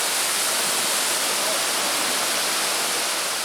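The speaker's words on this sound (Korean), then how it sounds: "폭포 아래로 물보라가 투명하게 부셔져 내린다." Manai waterfall in a gorge in Kyushu, Japan, spray crashing down, heard as a loud, steady, dense rush of falling water with no breaks.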